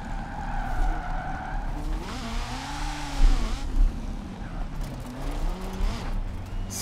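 A Lego Ferrari F40 in a racing video game revs and squeals its tires through all-wheel-drive slides, the engine pitch rising and falling with loud skids in the middle.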